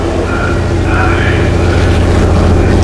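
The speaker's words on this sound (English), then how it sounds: "He's got the engine running" A race car engine in a GT1 racing video game at Anderstorp roars steadily as the car leaves the pit lane, a dense continuous drone with a voice talking over it.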